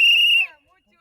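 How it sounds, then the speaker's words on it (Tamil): A referee's whistle at an outdoor kabaddi match gives one sharp, shrill blast close by, about half a second long, then fades to near silence. "இரு விசில் போடா"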